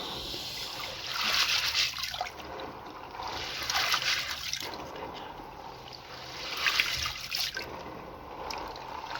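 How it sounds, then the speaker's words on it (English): Grains being washed by hand in water while making pap (akamu), with sloshing, trickling and splashing swells that come in repeated waves, fairly close, without talk. "You wash it just like this."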